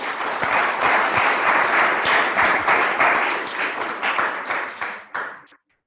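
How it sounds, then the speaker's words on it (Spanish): An audience applauds, a sustained wash of many hands clapping that holds steady for several seconds, then thins out and stops abruptly. "Damos un aplauso."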